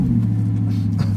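A deep, throaty 4.2-litre 420-horsepower V8 sports car engine rumbles steadily at close range, a low burbling idle-to-rev tone with no voices over it.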